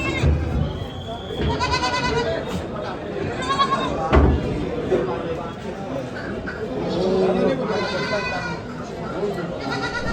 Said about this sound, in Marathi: इकडं पिल्लं आहेत बघा ही शेळ्यांची